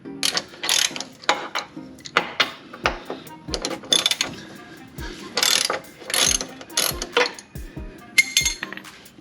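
A ratchet breaks loose a 17 mm control arm bolt on a Lexus IS250/350 front suspension: several close bursts of quick clicking, separated by short pauses, with faint clinks of tools between strokes.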